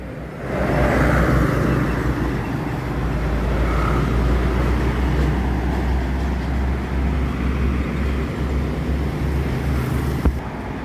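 A bus approaches along a wet highway in Palembang amid traffic, a steady broad rumble and tire hiss on the damp road building and holding close, with wind buffeting the microphone and a brief knock near the end.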